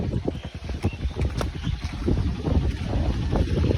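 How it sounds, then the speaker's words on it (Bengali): Strong gusty wind buffets the microphone outdoors on a rainy day by the water, producing heavy, uneven low rumbling and flapping bursts throughout. "এদিকে কি হাওয়া দিচ্ছে মারাত্মক হাওয়া"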